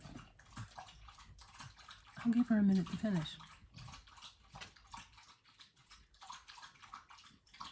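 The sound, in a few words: large dog drinking water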